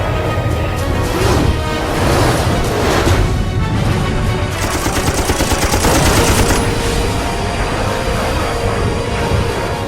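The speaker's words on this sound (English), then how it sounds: "50 caliber armor-piercing incendiary rounds slam into the MiG's aft fuselage." Fifty-caliber armor-piercing incendiary machine gun rounds slam into the aft fuselage of a MiG jet, a loud dense barrage of rapid bursts and impacts filling all ten seconds without pause, with no speech.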